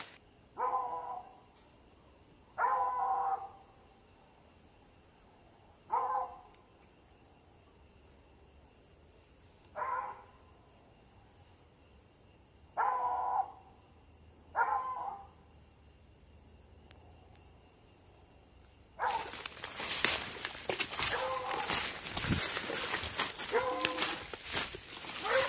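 Hunting dog baying in woods: about six separate bays, distant and moderately loud, spaced a few seconds apart over a steady insect drone, followed by loud, close rustling and crackling.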